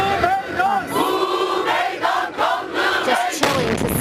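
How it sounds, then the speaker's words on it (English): Chaotic crowd noise at Ankara's main train station during a bomb blast, a dense roar of many voices with shouts and cries, loud and continuous with brief surges and a sharper burst near the end. "the moment the blast hit, it was caught on video"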